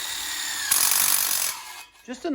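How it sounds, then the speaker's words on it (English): A short, harsh burst of power-tool drilling with a step bit through unistrut grinds loudly for under a second, then trails off into faint mechanical noise and a brief rattle. "I take a step bit, right, and I drill a hole through the unistrut"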